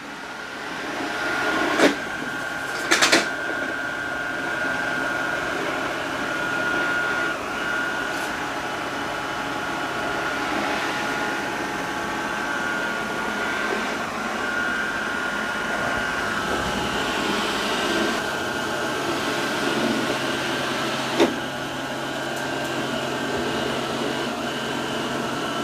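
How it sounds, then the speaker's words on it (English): A Roomba Combo Essential robot vacuum runs across a floor, giving a steady, fairly quiet mechanical whir and hum with a few brief clicks and bumps, heard alone without talk. "so it's vacuuming everywhere. It says it'll do the neat rows."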